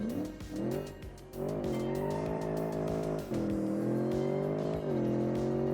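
Massive 2.7-ton SUV pushed through a full racing lap in a driving video game with traction control off, engine droning loud and steady with pitch shifts through gear changes and bursts of tire squeal throughout.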